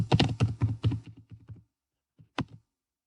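Computer clicks from a mouse opening a link in library resource-sharing software: a quick run of sharp clicks close by, then a gap, then a couple of isolated clicks.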